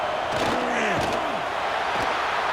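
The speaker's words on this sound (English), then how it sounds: "here comes the noise. This crowd is trying to inspire this defense to make a big red zone stop" Stadium crowd in EA Sports College Football 26, Arizona State vs Washington, roaring for a red zone defensive stop: a steady, loud wash of crowd noise with a few dull thuds and faint voices over it.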